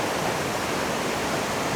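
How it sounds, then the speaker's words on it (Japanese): A waterfall swollen after several days of rain roars as a dense, steady rush of water, loud and unbroken throughout. "滝に到着です。"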